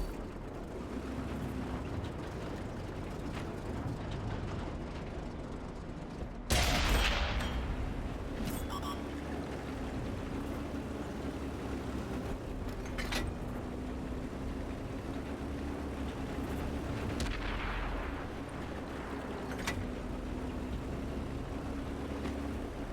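Tank cannons fire in World of Tanks on console, with a Pz. 58 Mutz shooting APCR rounds: a few sharp, distant-sounding shots and impacts, spaced apart, over a steady engine rumble.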